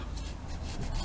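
A leather steering wheel being refurbished is rubbed over its surface with steady, close, rasping strokes, short and continuous with no voices.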